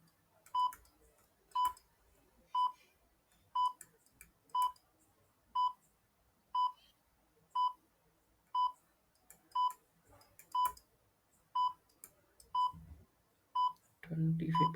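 A countdown timer sound effect ticks through a timed math question, about thirteen evenly spaced electronic beeps roughly one per second, ending with a brief louder tone burst.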